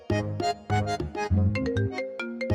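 A phone rings with a melodic electronic ringtone in repeating bursts of bright, tonal notes, loud and close, with no voices.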